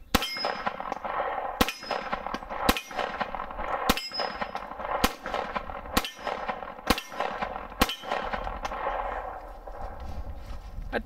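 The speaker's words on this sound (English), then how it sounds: "let's run some more rounds downrange" A 1911 pistol fires .45 ACP rounds downrange outdoors: eight sharp, loud reports at roughly one-second intervals, each a crisp crack with a brief metallic ring and short echo tail.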